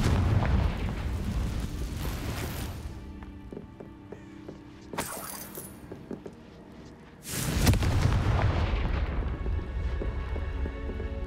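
Confringo fire spells in the Hogwarts Legacy video game burst out as two sharp, loud blasts over a rumbling background of booming combat effects.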